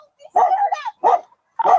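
A dog barks and yips in three loud, close bursts with brief gaps between them, sounding agitated, with some whimpering edges.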